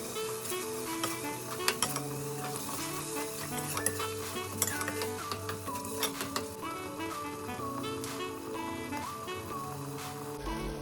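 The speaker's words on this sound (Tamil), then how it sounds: "இப்போ இது கூடவே கர்ட் ஆட் பண்ணி அதையும் நல்லா மிக்ஸ் பண்ணிக்கலாம்." Curd being stirred into a tomato and ground-paste masala in a pot for kuska biryani, a steady scraping stir over a continuous sizzle, with occasional utensil clinks against the pot.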